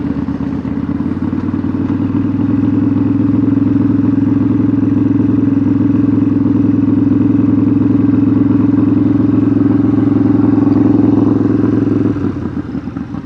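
A motorcycle engine runs loud and steady while the bike is ridden home from a store, a constant low droning hum with no speech, easing off near the end.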